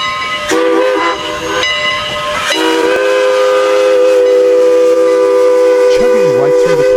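Strasburg Railroad No. 81, a vintage steam locomotive, sounds its whistle near a railroad crossing in long, loud, sustained blasts with a breathy hiss, nearly continuous throughout.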